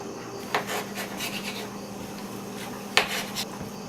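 Tomatoes, cored with bottoms trimmed, being chopped into bite-size pieces on a board: a few sharp knife taps stand out against a low, steady background with faint rubbing and scraping.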